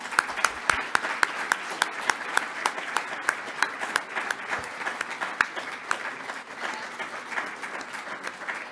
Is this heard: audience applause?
yes